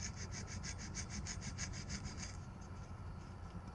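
Rust is scrubbed off the steel cylinder sleeve of a KLX140 big bore top end, a rhythmic back-and-forth rasping of about a dozen quick strokes over a low rumble, then the rubbing softens and trails off.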